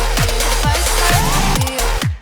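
A homemade snare roll, pitched down, runs through a full EDM mix, its repeated hits dropping in pitch under a thick layer of bass and synths that falls away at the end.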